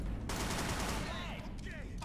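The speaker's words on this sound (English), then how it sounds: "the explosions echo" Rapid gunfire and explosions in an open-world crime video game, dense bursts with echoing tails that reverberate loudly, mixed with a voice talking.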